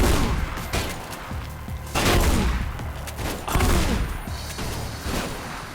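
Gunshots ring out in the video game Mirror's Edge: several loud, booming bursts fire in spaced volleys, each one trailing into a short reverberant tail.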